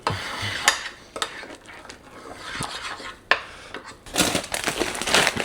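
A spoon stirs 20 grams of chocolate whey protein into 350 grams of water, with close, irregular clinks and scrapes against the container that grow busier and louder toward the end.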